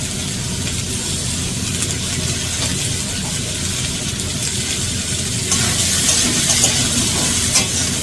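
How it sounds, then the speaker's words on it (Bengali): Chopped vegetables fry hard in a pan over a high gas flame while being cooked with a pinch of salt, giving a steady, dense sizzle that grows slightly louder and brighter toward the end. "গ্যাসের ফ্লেমটা বাড়িয়ে দিয়ে ভালো করে সবজিগুলো ভেজে নেব।"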